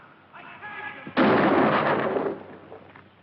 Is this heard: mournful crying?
no